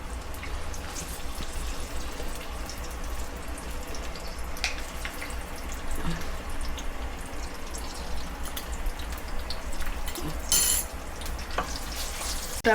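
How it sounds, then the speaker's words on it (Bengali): Onion and whole fenugreek seeds fry in hot oil, making a continuous close sizzle and crackle. Occasional stirring knocks and scrapes cut through it, there is a low steady hum, and no one talks. "পেঁয়াজটা গরম হয়েছে কয়েকটা লাড়া দিয়ে এখন মেথি দিয়ে দেবো এই তেলের মধ্যে"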